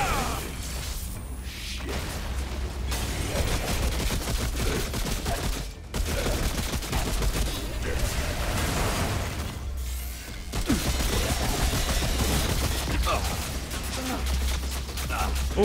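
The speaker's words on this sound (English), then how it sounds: "Oh, those turrets. That's shredding me." Automated turrets blast away in Remnant: From the Ashes, a dense, relentless fusillade of gunfire that keeps going with only brief breaks, loud and close over the game's rumbling soundscape.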